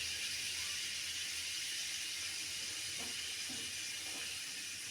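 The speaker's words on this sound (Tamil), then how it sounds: "வெந்தயம் நல்லா பொரிஞ்சு வரட்டும்" Mustard seeds and fenugreek fry in hot oil for a fish curry, giving a steady close hiss with a few soft pops and spits near the end, alone without talk.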